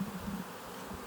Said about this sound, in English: You're going to have some bees that are flying